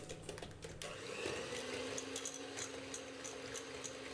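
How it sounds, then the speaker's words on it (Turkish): Electric hand mixer whisking four eggs in a bowl at low speed, a steady close motor whir with faint beater rattle, running continuously without talk. "Yumurtaları çırparken öncelikle düşük devirle başlıyorum."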